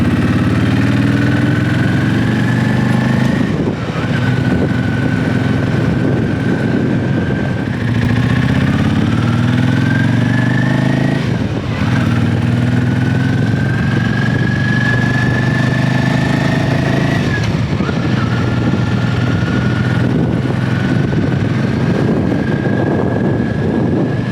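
A used motorcycle on a short test ride loop: a steady mid-pitched engine drone with several rises and falls as it revs up through the gears, continuous and close, with no talk.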